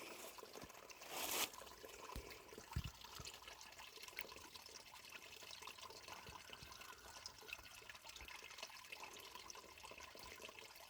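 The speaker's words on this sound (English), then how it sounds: "I love the sound of water." Water flows on a nature trail, a soft, steady wash with faint trickling that carries on throughout, quiet and continuous, with only brief small knocks and no talking.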